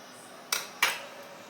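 A spoon gently stirring fish curry in a metal cooking pot gives two short clinking scrapes, close and fairly quiet, against a soft kitchen background.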